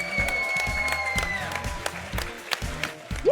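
Applause from a crowd at a collegiate Smash Bros. tournament at Northeastern University, dense clapping with a few whistles and cheers on top, sustained throughout.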